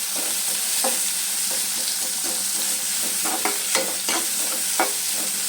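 Chopped capsicum fries in hot oil in a pan for an aloo gravy, making a steady close sizzle broken by scraping stirs and small clacks now and then, with no talk.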